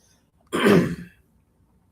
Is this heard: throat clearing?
yes